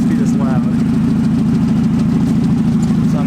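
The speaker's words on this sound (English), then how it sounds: "I think you guys can already hear the car. Del Sol's normally not supposed to be this loud." A Honda Del Sol engine idles loud and rumbling from a failed exhaust manifold, a steady close throb throughout with someone talking over it.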